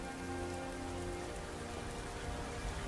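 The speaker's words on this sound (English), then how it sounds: "There's nobody here because it's raining." Steady rain falls in the video game Skyrim, a dense, even patter of drops on surfaces that stays constant and fairly loud throughout, with faint tonal game ambience underneath.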